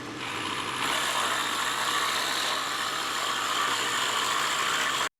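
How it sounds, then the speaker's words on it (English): A spade bit bores a 15/16 inch hole through a 2x4, giving a steady, loud whirring drill drone with a gritty cutting rasp that holds for about five seconds before stopping abruptly. "I'm getting ready to drill the 15/16 inch holes in it with this spade bit"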